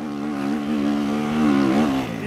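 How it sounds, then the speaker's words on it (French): An enduro motorcycle racing on sand in the Enduropale beach race revs with a buzzing, rising and falling engine note over about two seconds, close and continuous with no speech. "Tu l'entends au régime moteur, hein."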